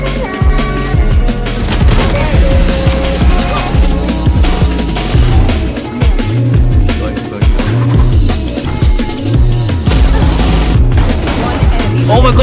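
Gunfire in a tactical shooter video game, loud bursts and rapid volleys of shots with thumping booms, while players talk and shout excitedly over it.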